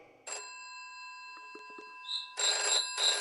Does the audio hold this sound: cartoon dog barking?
no